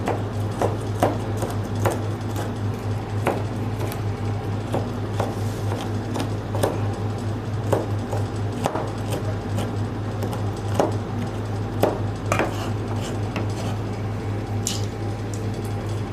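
Young green peppercorns chopped on a cutting board for Thai pork khua kling, giving irregular close knife taps and crunches, sparse at first and then busier, over a steady low background hum.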